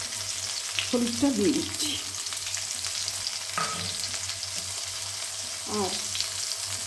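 Fish frying in hot oil with salt and turmeric added, a steady close sizzle with crackling spatter throughout while someone speaks briefly over it.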